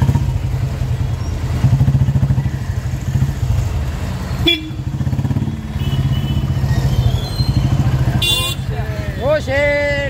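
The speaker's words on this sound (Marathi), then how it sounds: "आता पण ट्रॅफिक बघा." Busy road traffic at Manpada, with motorcycles and cars passing close by, engines droning, horns tooting and a rising whine near the end, while people talk over the din.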